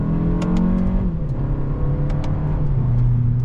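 A Kia K4 compact car with a turbo engine pulls away from a stop, its engine humming and rising in pitch as it gathers speed, heard steadily from inside the cabin.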